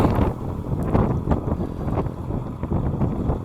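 Gusty wind buffets the microphone aboard a boat motoring out of Portsmouth Harbour, a steady rough low rumble with irregular gusts swelling throughout, no talk.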